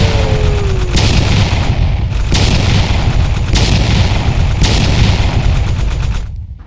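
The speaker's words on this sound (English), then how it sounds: "Sergeant Pyro, are you ready to take Witchcraft by FireHawk Fireworks out to the street pad, and let's see how far we can get this witch to fly?" FireHawk Witchcraft fireworks fire from a street pad in a rapid series of loud, close booms, a launch roughly every second or so over a continuous crackling roar, ending abruptly.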